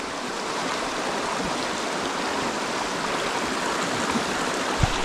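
Stream water rushes steadily as a Royal Enfield Himalayan motorcycle crosses it on a Montana singletrack trail, a dense continuous burble near at hand with one brief low thump near the end.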